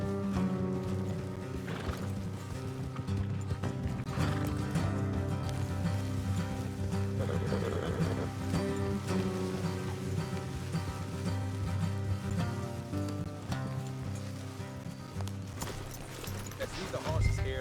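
Horses trot with steady clip-clop hoofbeats in Red Dead Redemption 2, continuous and mid-distance under a constant bed of game music and ambience.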